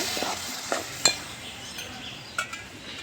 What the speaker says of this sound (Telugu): ఇప్పుడు ఇంట్లో నేను ఇగో ఈ కప్పు పెరుగు పోతానా మంచిగా కలుపుకోవాలి